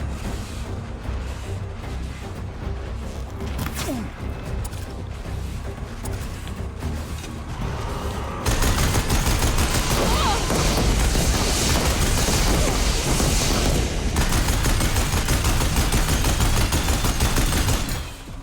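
Rapid gunfire bursts in Horizon Zero Dawn, first a quieter stretch of shots, then a loud, dense rattle of machine-gun fire and crashing impacts that continues almost unbroken for the last ten seconds.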